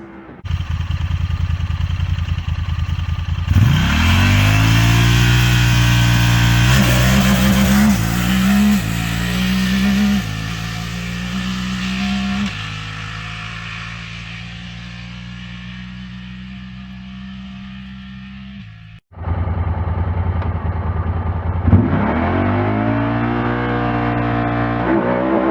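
A Honda Talon 1000R sport side-by-side revs hard, then launches and accelerates with a loud, rising engine roar that holds steady. The roar cuts out briefly before a second surge of revving.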